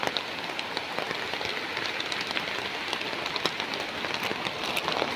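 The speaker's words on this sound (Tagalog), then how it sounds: "Walang tigil ang ulan." Heavy, unrelenting rain pours on surfaces during the rainy season, a dense, even hiss of countless drops with faint patters and taps throughout, nobody talking.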